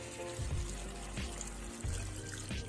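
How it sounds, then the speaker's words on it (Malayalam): Thick coconut milk poured into chicken cooking in a pan for a Kerala-style chicken roast, a soft close trickle and splash of liquid with faint sizzling beneath, no talking. "ഇനി നമുക്ക് തേങ്ങാപ്പാൽ ചേർത്ത് കൊടുക്കാം"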